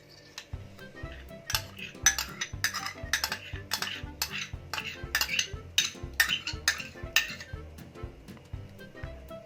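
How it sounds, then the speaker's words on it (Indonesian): A spoon stirs yogurt starter into warm milk in a container, tapping and clinking against the sides in a quick, steady rhythm of close, bright knocks with no talking. "Aduk rata hingga homogen."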